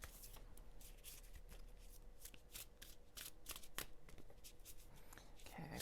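Tarot cards being shuffled, a continuous riffle of close, crisp card flicks and slaps running throughout at a low level.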